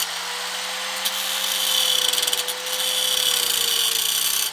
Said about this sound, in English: just take your angle grinder and cut a little bit of this bracket